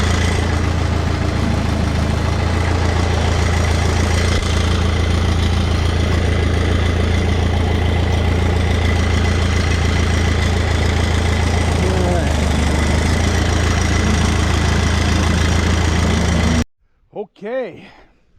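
A 1950 Minneapolis Moline GTB tractor with a 302 engine idles steadily and loudly up close, a continuous low rumble that runs unbroken before cutting out near the end.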